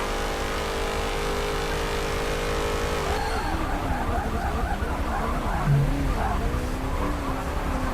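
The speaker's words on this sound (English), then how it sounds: "Those Charger Daytonas are so powerful, so quick in this game." A Dodge Charger Daytona race car in Forza 7 at Virginia Raceway revs hard and accelerates, its loud engine rising and shifting in pitch, with tire squeal and other cars close around it.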